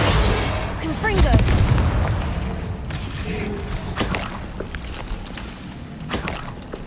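Confringo blasting spell exploding in Hogwarts Legacy, a game: a loud booming blast near the start, then several sharper cracking bursts later, close and forceful, with game ambience between.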